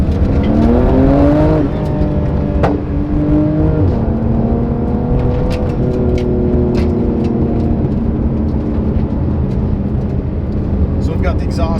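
A turbocharged 800-horsepower Porsche with open exhaust roars close by as it accelerates hard, engine pitch climbing through several gear shifts with a loud, rasping exhaust.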